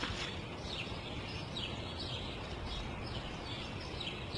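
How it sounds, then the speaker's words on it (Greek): A sparrow in a park gives faint, short, repeated chirps at a steady pace, set against a constant hiss of outdoor background noise. "ένας σπουργίτη ήρθε και κάθισε απέναντί μας"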